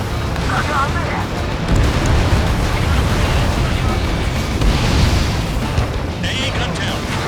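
An AA gun blows up in the flight combat game Ace Combat 7, a sustained rumbling explosion roar with booming bursts while someone talks over it.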